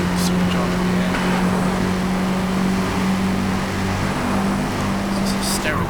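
A supercharged 600 horsepower car engine in Forza Motorsport holds a constant loud drone with a steady low hum, while someone talks over it.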